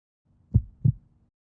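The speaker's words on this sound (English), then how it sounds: "It was a young girl's heartbeat, and she was terribly afraid." A young girl's heartbeat racing with fear: two soft, deep thumps in quick succession, close and isolated against near silence.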